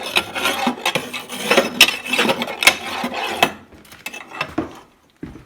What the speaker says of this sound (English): I take my scraper tool and I scrape out the inside